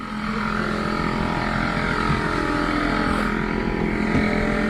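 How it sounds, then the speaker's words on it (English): An air compressor runs while a camper is being winterized, a loud, steady mechanical drone with a constant hum that stays unchanged from start to finish. "I know this compressor's loud, but we'll manage"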